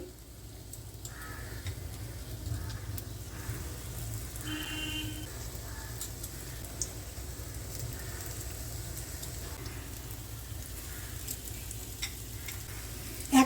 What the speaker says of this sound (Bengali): বড়াটা তো আমাদের ভাজা হচ্ছে